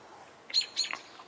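Two quick bright bird chirps sound in close succession, fairly faint, from songbirds such as robins, orioles or blue jays outdoors, with no talking.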